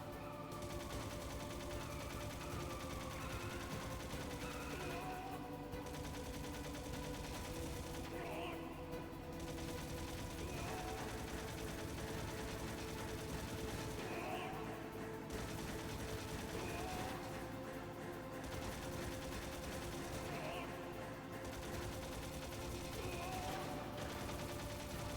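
Repeated gunfire in the Metal Gear Solid escape sequence against Liquid, steady rapid bursts over continuous game music and noise throughout, no talk.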